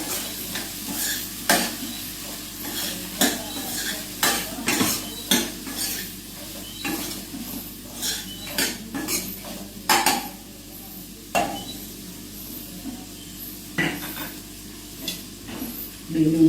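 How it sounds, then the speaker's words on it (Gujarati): Finely chopped red tomatoes and onion fry over a low gas flame in a pan, with a steady soft sizzle and repeated sharp clicks and scrapes of a spoon stirring against the metal. "એવા આપણે નાખી દીધું એમાં લાલ ટમેટા, ઝીણા સમારેલા,"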